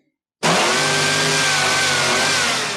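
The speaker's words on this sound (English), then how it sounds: "Look how high that thing revs." A loud engine suddenly revs up to a high, sustained whine and holds there, with steady rising harmonics and no speech.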